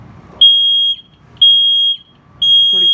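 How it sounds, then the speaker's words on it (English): Smoke alarm sounding indoors during a phone sound-recognition test, three loud piercing high beeps of about half a second each, evenly spaced with short silent gaps, close and clear. "it says a sound has been recognized that may be a smoke alarm."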